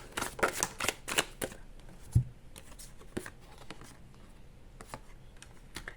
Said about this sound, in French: je pose toutes les cartes, je vous explique.